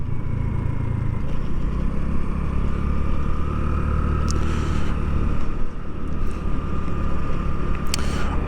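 A 2024 Honda Navi, a 109cc clutchless scooter-style bike on stock tires, rides through city streets with a steady, continuous engine drone and road and wind noise throughout, plus brief passing higher-pitched sounds.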